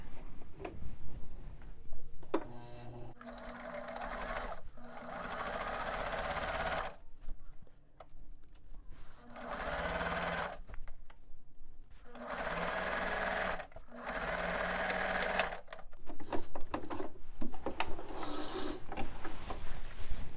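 A sewing machine runs a straight stitch at 2.5 stitch length while converting a long-sleeve shirt to sleeveless, with several bursts of steady whirring separated by brief pauses and soft handling clicks, fairly close and without talk.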